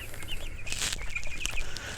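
Young chickens in brooder boxes, a steady flock of soft peeps and clucks close by with occasional wing flutters, continuous over two seconds.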